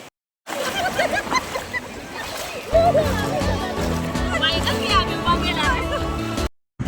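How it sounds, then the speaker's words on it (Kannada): People splash and play in the sea at a beach in Goa, with broadband water noise running steadily throughout and voices and children's chatter mixed in close by. "ನೀರು ಕಂಡ ಕೂಡಲೇ ಒಬ್ಬೊಬ್ಬರು ಒಂದೊಂದು ದಿಕ್ಕಿನಲ್ಲೇ ಆಟ ಆಡ್ತಾ ಇದ್ದಾರೆ"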